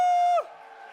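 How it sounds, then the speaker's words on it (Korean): At an evening autumn revival service, the congregation raises another victory shout: a loud sustained cry that drops in pitch and trails into a quieter murmur of many voices. "한 번 더 승리의 함성."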